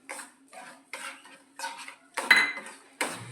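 A malai peda mixture with sugar is stirred in a heavy-bottomed pot, giving about six separate scraping, clinking strokes of spoon against metal in an even rhythm, close and fairly loud.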